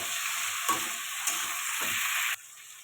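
Fish curry masala sautéing in a pan for an alu-fish jhol, a steady close sizzle with a few spoon scrapes, cutting off abruptly near the end.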